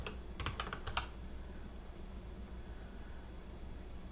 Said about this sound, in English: So I'm just going to type advanced startup options.